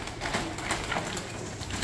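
Pigeons coo at a bird auction, soft throaty calls repeating over a busy, noisy room.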